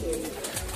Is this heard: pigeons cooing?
yes